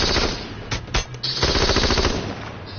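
Automatic gunfire in the battle-royale game H1Z1, with loud, rapid bursts that fill most of the clip and a brief lull near the middle before the shooting resumes.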